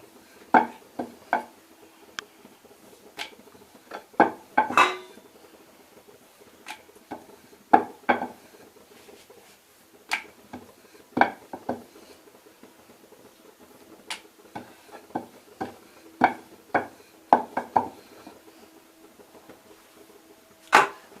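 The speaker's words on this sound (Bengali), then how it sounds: "আমরা আমাদের কড়াইশুঁটির কচুরিকে বেলছি।" Rolling pin pressing and rolling green pea kochuri dough on a board, heard as a series of soft, irregular wooden taps and thuds spaced across the stretch, fairly close and quiet, with no talking.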